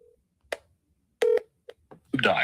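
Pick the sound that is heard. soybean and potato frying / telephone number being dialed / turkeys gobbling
telephone number being dialed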